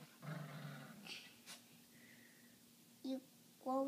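Dogs snort and give low growls close by in short bursts, with a child's and an adult's voices talking over them.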